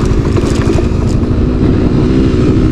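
A Suzuki Skydrive Crossover scooter climbs an uphill trail at half throttle, its engine droning loud and steady up close with a rough, clattering tone.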